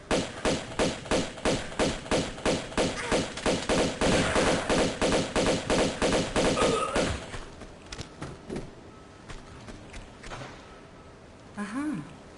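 Shotgun blasts in the game Tomb Raider II Remastered, a fast regular run of loud booming shots for about seven seconds, then scattered thuds and quieter game sounds.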